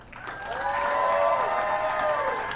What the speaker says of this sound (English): how about a nice round of applause for our two finalists?